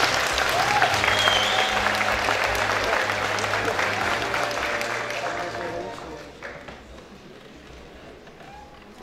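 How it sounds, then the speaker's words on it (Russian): Audience applause at a military training center graduation ceremony, loud and sustained at first, then gradually fading toward the end, with some voices and movement mixed in. "разрешите эти аплодисменты считать поздравлением вам"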